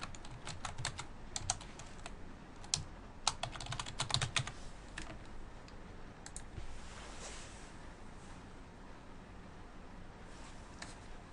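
Rapid typing on a computer keyboard while logging in to a RefWorks account, with fast bursts of close key taps that thin out into lighter scattered keystrokes over a steady background hiss.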